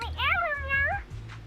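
A video game character in Zenless Zone Zero lets out a single drawn-out, cute meow, a human voice imitating a cat, close and clear over faint game background sound.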